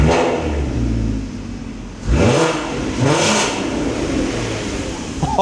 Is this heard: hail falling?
no